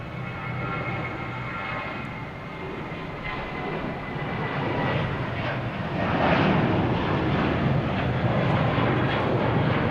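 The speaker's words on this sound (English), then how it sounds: "Here is Spirit Airlines heading to Myrtle Beach in A321." A Spirit Airlines Airbus A321 jet passes at Boston Logan Airport, a steady broadband engine roar that swells slightly toward the end, heard from a moderate distance.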